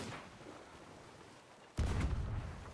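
Ship cannon firing in a video game, a single sudden heavy boom at close range that cuts in after quiet ambient noise and rolls on as a sustained rumbling report.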